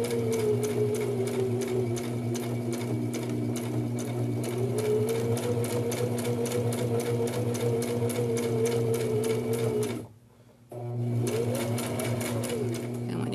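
A sewing machine stitches a seam with backstitching in a steady, close, rapid whirring run. It stops for about half a second, then starts again, with a voice speaking faintly over it.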